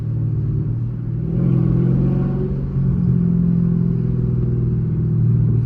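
A Chrysler 300 SRT 392's loud exhaust rumbles and revs up close, the deep engine note rising and falling in a couple of throttle surges.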